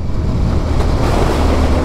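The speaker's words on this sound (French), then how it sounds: "Et vent de sable quoi, ça fait longtemps que j'en ai pas eu." Strong sandstorm wind roars continuously against the microphone, a dense, rushing blast with no pauses, in Algeria.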